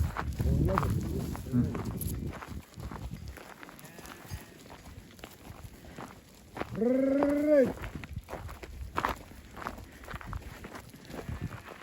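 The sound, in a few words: goats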